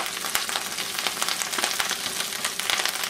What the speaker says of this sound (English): Into a pan with some of the bacon drippings.